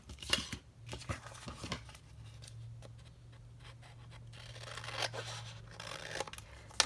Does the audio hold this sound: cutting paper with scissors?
yes